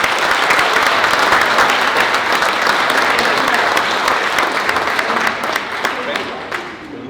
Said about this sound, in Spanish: por favor un aplauso para Gimeno José Hernández